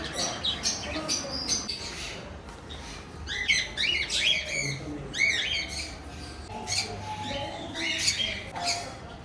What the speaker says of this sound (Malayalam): കിളികൾ തന്നെ ഒരുപാട് തരത്തിലുണ്ട്.